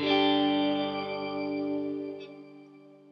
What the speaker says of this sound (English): Here's the octo reverb, which is super sick.